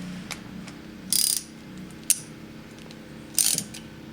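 A ratchet socket wrench turning on a Honda GC190 small-engine carburetor gives two short bursts of quick, close metallic clicking, separated by a quiet pause with faint ticks.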